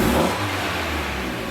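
A Mazda Miata engine fitted with a big aftermarket exhaust gives one quick rev, a loud close burst of low exhaust rumble that drops back toward idle within a second and a half.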